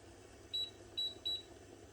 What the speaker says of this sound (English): set the timer for 5 minutes